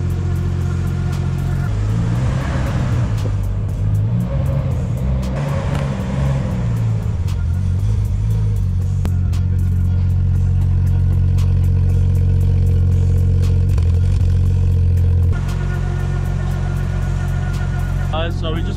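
A Nissan Skyline R34 running on E85 idles and revs with a tight timing belt, a loud steady engine drone with rising revs early on, clattering mechanical noise on top, and the engine note dropping away near the end.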